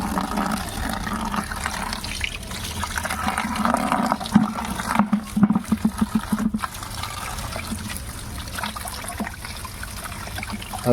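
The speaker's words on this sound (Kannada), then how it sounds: "ಅರಿಶಿನದ ಕೊಂಬುಗಳು ಮುಣಗಷ್ಟು ನೀರು ಹಾಕೋಬೇಕು." Water splashes and trickles steadily over freshly harvested turmeric rhizomes being soaked to loosen soil, a continuous close pouring sound with a brief burst of choppier gurgling midway.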